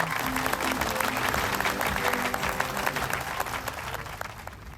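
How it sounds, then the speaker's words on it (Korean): An audience at a security symposium in Korea claps to welcome a company CEO to the stage, with dense, sustained applause that tapers slightly toward the end, while a low hum sits underneath. "이병돈 대표이사를 큰 박수로 맞아주시기 바랍니다"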